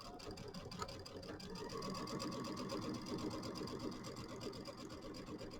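Sewing machine stitching down the binding on a large quilt, a steady rapid mechanical whirr with fine repetitive needle clatter running continuously, close and fairly loud with no talking.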